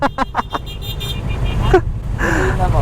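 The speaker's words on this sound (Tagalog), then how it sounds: "Ang ganda rin ng busina mo" Car horn honks during a road trip in the Philippines, a few short toots amid road and engine noise, with people talking in the car.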